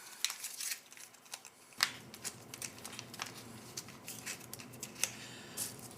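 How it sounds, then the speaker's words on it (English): Scissors snip through the plastic nozzle of a cheese spread tube, several close, crisp cuts with small rustles in between. "So I'm going to cut the little nozzle on the top that I customarily do for ease of squeezing"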